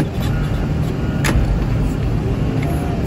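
An old Mazda car driving past, a loud broad rumble of engine and road noise filling the whole moment, close and steady with a brief sharper swell midway.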